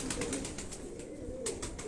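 Large-bodied pigeons cooing steadily at close range, soft repeated low coos layered over a continuous outdoor background with faint higher calls, no talk.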